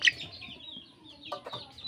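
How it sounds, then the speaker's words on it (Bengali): A hen clucks close by in short, soft bursts, with a few sharper calls near the start and toward the end over quiet background. "আর এই যে মুরগিটা একবারে ভেবলা, আমি যখনই আসি তখনই আমার কাছে আসে"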